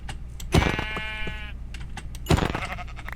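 Sheep in Minecraft bleat twice, loud and close, each a wavering nasal baa with some clicks and thumps from play in between.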